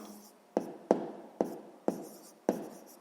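A pen marks down a math answer on paper in a sixth-grade geometry lesson about isosceles triangles, five sharp strokes or taps spaced about half a second apart, close and fairly quiet with no talk over them.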